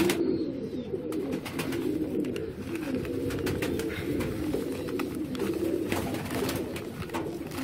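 Breeder pigeons cooing steadily at close range, a continuous low murmuring chorus lasting throughout with no talk.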